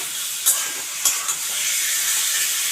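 Pointed gourd (potol) frying in oil over a high flame gives a steady, bright sizzle close up, with a few sharper spits and crackles breaking through.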